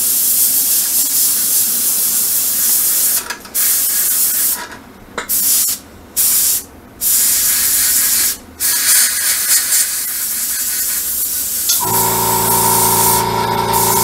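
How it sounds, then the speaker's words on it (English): An airbrush sprays camouflage paint onto a model Sd.Kfz.251 half-track, giving a steady close hiss with several brief pauses in the middle and a change in tone near the end. "notice you're so fine spraying that you don't even have to mask off the inside of the vehicle"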